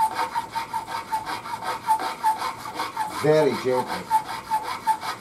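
A file works the jumbo frets of a bass guitar neck masked with painter's tape, making soft, rhythmic back-and-forth rasping strokes close by. A brief spoken phrase comes midway.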